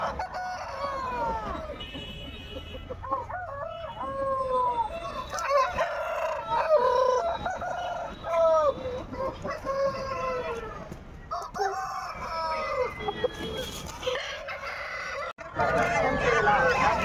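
Roosters crowing repeatedly at a busy night-time chicken market, several birds calling one after another at close range with clucking in between and people talking underneath.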